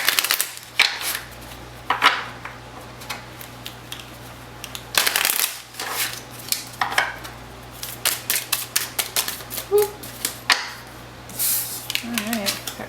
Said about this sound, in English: Alright, got cards flying out here.